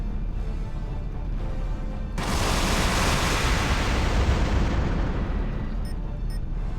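Thrown grenades going off in the mech video game Heavy Gear II: one sudden blast that swells into a long, loud, rumbling roar, alone with no voices.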